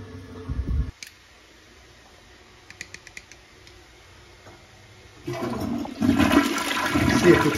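A household toilet in an apartment bathroom flushes, rising suddenly into a loud rush of water that keeps going to the end, after a brief thump and some faint clicks and creaks.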